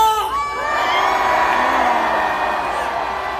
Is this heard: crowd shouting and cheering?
yes